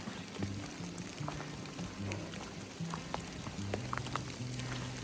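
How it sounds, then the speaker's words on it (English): Light rain patters steadily on a surface on the Appalachian Trail, a soft continuous sprinkle of scattered drops, fairly faint and with no talking. "It's raining."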